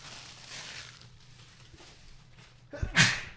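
A single sharp sneeze bursts out loudly near the end, after a stretch of quiet background murmur and low room noise.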